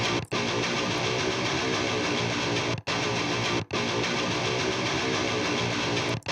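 Thick layered distorted electric guitars chug loudly and continuously, with a few short breaks between heavy chord phrases.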